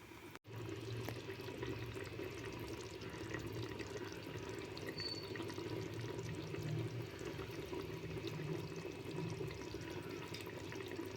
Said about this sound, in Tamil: நம்ம அரை அழக் தண்ணி அப்படி இதில் போட்டுடுவோம்